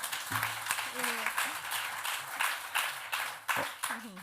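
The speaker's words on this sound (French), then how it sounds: "On peut l'applaudir, je pense." Scattered audience applause at an open banking conference on a digital tour, bursts of clapping rising and falling while people keep talking over it.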